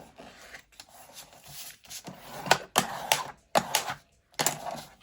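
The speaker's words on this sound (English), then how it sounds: "I'm just going to go down it a couple of times, make sure it's burnished properly" A bone folder burnishes the fold of a paper envelope for a craft file folder, several quick rasping strokes rubbing back and forth, close and fairly quiet, with short pauses between passes and no talking.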